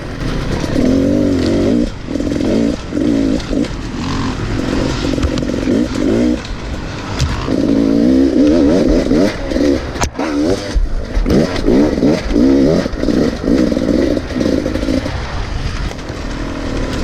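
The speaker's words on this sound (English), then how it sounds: "First up for me was the 300RR Race Edition. I really enjoyed riding this bike." A Beta 300RR Race Edition two-stroke dirt bike engine, loud and close, revving in repeated bursts with sharp throttle blips and brief drops between, its raspy buzzing tone rising and falling.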